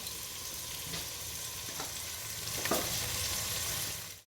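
Tomato masala for mutton biryani fries in a pot with a dense, even sizzle that holds steady for about four seconds, with a couple of faint stirring scrapes, then cuts off.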